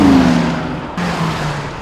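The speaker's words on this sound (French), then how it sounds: "Le moteur qui fait un bruit." Mercedes-AMG GLA 45 4MATIC engine heard on a 2017 test drive in Hungary, a loud steady drone with a falling pitch, a brief dip near the middle, then a sustained hum again.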